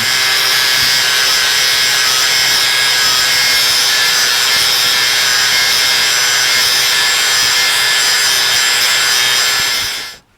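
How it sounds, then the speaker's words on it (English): An angle grinder cuts into a metal housing during a repair, a loud continuous high-pitched grinding whine that holds steady for about ten seconds before stopping abruptly. "Hand me that grinder."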